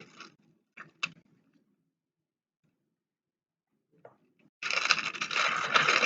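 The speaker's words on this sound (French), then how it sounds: "Désolée pour le bruit du plastique." Plastic clicks sharply a few times, then after a pause a loud, continuous rustling and crinkling of plastic starts up close.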